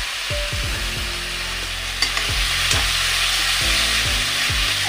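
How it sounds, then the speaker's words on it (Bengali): Spice paste with tomato frying in a pan for Bengali katla kalia, a continuous loud sizzle punctuated by repeated scraping stirs of a spatula. "এই দেখো, মশলা আমার কষানো হয়ে গেছে"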